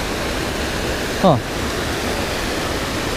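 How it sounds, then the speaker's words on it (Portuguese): Water pouring over the top of a waterfall near Santo Antônio do Pinhal in the Serra, a steady broadband rush with a brief voiced exclamation partway through. "É a parte de cima daquela cachoeira que eu mostrei pra vocês. Tava caindo aquele monte de água."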